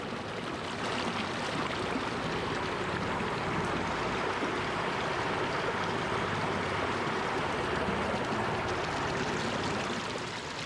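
Acid mine drainage water from the abandoned Lausanne Mine rushes steadily through a tunnel, a continuous broadband roar and splash that stays loud and even throughout, with no voices.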